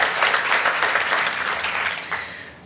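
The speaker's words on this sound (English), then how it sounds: "if we can just give them a round of applause too for helping us this evening" A crowd applauds at an evening distinguished alumni and community awards dinner, a steady wash of many hands clapping that gradually fades toward the end.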